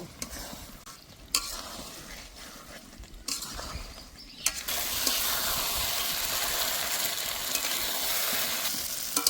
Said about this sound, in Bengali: ভেজে রাখা আলু পটল আবারও বেশ কিছুক্ষণ কষে নেব।